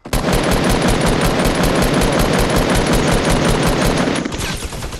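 Dense, rapid automatic gunfire from the Fortnite video game hammers on almost without pause for about four seconds, loud and close, then thins out and ends.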